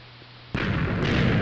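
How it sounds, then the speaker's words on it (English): A TNT block blows up in a block-building video game with a sudden loud, booming blast that cuts in after quiet and rumbles on for about a second, followed by a second crackling burst. "Another explosion. Another hole."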